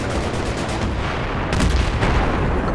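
Dense, loud gunfire from multiplayer Battlefield 3 combat crackles continuously with overlapping shots and heavier booms, close and relentless, with no voices.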